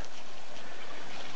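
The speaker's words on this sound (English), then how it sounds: "Down here is a creek." A forest creek runs with a steady broadband wash and soft trickling, an even, constant flow heard alone with no voices.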